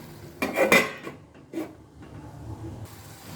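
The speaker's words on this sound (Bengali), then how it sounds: "তো এবার আমি ঢাকা দিয়ে দেবো" A metal lid clatters onto a cooking pan of shapla (water lily stems), with two quick clanking contacts followed by a softer scrape, close and clear over a quiet kitchen hiss, with no talk.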